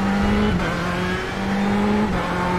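A race car engine in the iRacing sim holds a loud, steady droning note with slight pitch shifts and brief dips as the throttle eases, continuous for the whole stretch with no talking.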